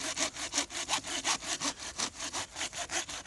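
Hard wood sawn by hand at a lakeside bivouac: quick, regular back-and-forth rasping strokes, about six per second, close and clear with nothing else over them.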